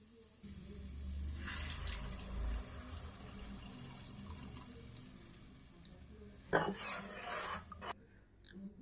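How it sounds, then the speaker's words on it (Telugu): Tamarind juice poured into a curry pan of cooked ginger-garlic paste for an Andhra-style fish curry, a soft liquid pour in the first seconds followed by faint splashing and a sharp clink near the end. "ఇప్పుడు చింతపండు పులుసు పోసుకున్నామండి."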